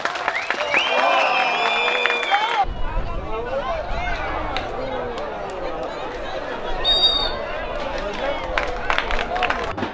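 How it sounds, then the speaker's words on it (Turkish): Spectators at a Yörük gathering on the Deveboynu plateau applaud the wrestlers, scattered clapping mixed with crowd chatter and voices, the noise shifting partway through and continuing outdoors. "Hani pehlivanlara alkış?"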